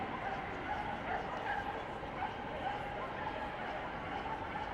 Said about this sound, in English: They're just getting the last terrier out. Hear the noise they're making in there.